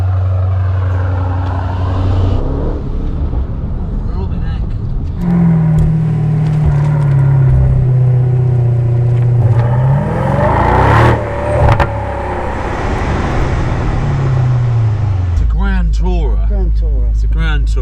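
An Aston Martin DB12 Volante with a V8 and QuickSilver exhaust upgrade drives off, its engine droning and rising in pitch through steady acceleration, with brief revs and a deep idle near the end, while people talk over it.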